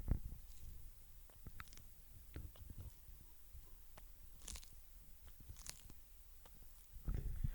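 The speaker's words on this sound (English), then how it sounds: "She's just eating the lettuce. she's chomping." A pet turtle chomps on lettuce, giving faint, close, irregular crunchy bites and soft wet chewing spread across a quiet background.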